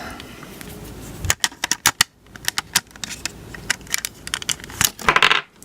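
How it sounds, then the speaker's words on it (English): Batteries dropping out of a Sony Walkman WM-EX610 cassette player, a quick series of sharp clattering clicks and rattles close by, clustered in bursts with brief pauses between them. "I just let the batteries fall back out."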